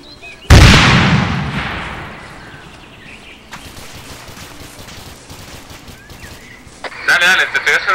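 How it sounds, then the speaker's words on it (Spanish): A grenade blows up with a sudden, heavy boom in the military shooter Arma 3, and its roar fades out over a couple of seconds. Sharper bursts of combat noise follow near the end. "Mira la explosión de la granada."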